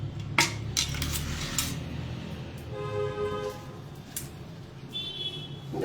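Utensils clink against a plate and dishes while ginger chutney is served, with a few sharp metallic taps near the start and light scraping through the rest, close by and without talk.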